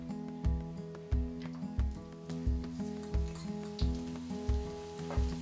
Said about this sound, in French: Nous allons ensuite faire griller l'échalote dans 5 cuillères à soupe d'huile à feu moyen.